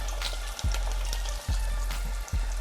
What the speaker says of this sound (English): Not going to take the shrimps that long to fry.